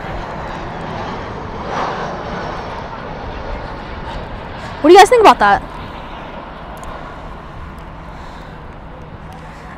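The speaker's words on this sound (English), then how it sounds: "Spoilers up, reversers out on that arrival right there." Airliners, including an Airbus A380, at Dallas/Fort Worth airport at night: a steady, distant jet engine rumble runs throughout, while a person talks nearby and a brief burst of other sounds cuts in midway.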